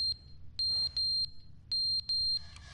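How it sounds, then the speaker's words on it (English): An electronic alarm beeps inside The Stanley Parable video game, sounding in clipped two-tone bursts: two groups of three quick, piercing beeps, clear and fairly near with no voices. "what's that beeping?"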